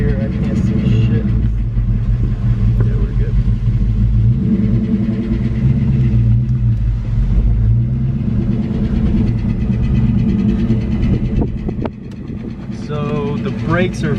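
A Drift Cobra's engine revs and drones loudly and continuously while its clutch slips and burns, with a heavy low rumble throughout and a dip near the end. Voices talk over parts of it.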